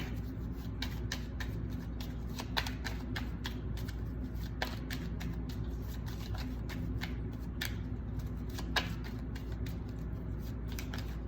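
Tarot cards shuffled by hand give steady riffling and soft slapping for several seconds, close and quiet over a low background hum.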